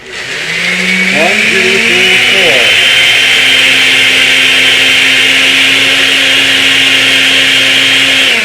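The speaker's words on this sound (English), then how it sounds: "See what the blender does? It pulls everything down and together." A blender pureeing pesto whirs loudly and steadily, its motor rising in pitch as it spins up, then holding a constant high drone.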